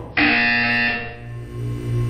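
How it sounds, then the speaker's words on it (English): A single loud electronic buzzer from the video game Portal 2 blares abruptly and holds its harsh tone, fading slightly over about two seconds. "You will hear a buzzer."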